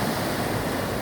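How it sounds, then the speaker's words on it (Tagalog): Strong ocean waves roar in a dense, continuous wash of surf, close and loud, with wind rumbling underneath. "Ayan ang lakas ng alon"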